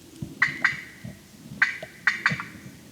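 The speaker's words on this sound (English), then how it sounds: "out here at the 27-minute mark is when Chubb strikes that turkey, I continue under the breath yelping while we're making our setup" A wild turkey gobbles during a late-season turkey hunt, several sharp rattling bursts spaced irregularly over a few seconds, set against quiet woods.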